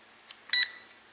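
A Simrex X300C drone beeps twice while pairing with its controller, a short, faint chirp and then a louder, sharper tone, close by and alone in quiet.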